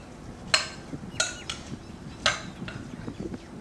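Bacon and vegetable roll ingredients are mixed in a bowl, with a few sharp clinks and scrapes of utensil against the bowl spaced over a quiet background.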